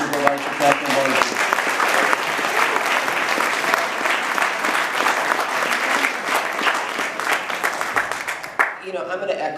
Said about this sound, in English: Please give a round of applause for our next county supervisor, Kathryn Barger.